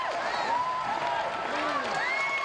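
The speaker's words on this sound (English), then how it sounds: "supporters from every school here applauding Kristen Maloney with good reason" A gymnastics crowd at Haas Pavilion applauds and cheers a gymnast at the 2005 Pac-10 Championships, a sustained wash of clapping with whoops and shouts rising above it.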